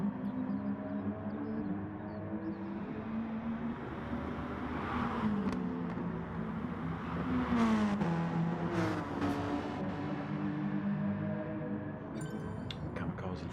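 Remote-controlled race cars run an out lap at Brands Hatch, their engines whirring and revving under continuous commentary, rising to a louder passing buzz midway before fading back.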